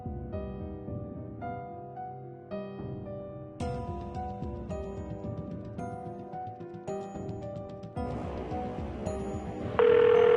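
During an outgoing phone call a telephone rings in a steady series of repeated ringing tones, fairly soft and close, with no voices heard.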